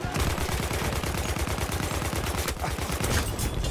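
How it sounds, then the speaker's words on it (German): Sustained automatic gunfire from Battlefield 1 as a full magazine is emptied into the air, a dense unbroken stream of rapid shots, loud and close, with faint battle noise behind. "Einfach ganz Magazin in die Luft schießen."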